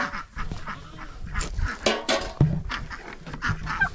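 Farm ducks, geese and other fowl honk and quack near and loud in a scattered, overlapping chorus with a few sharp calls, with sheep and turkeys also on the farm and no talking.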